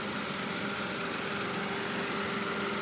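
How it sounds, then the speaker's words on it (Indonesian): A 1.0-litre three-cylinder engine in a 2014 Daihatsu Ayla X manual, fitted with sound damping, idles steadily with a close, continuous buzzing hum, no voices over it. "Ya mesin 1000 cc ya, 3 silinder"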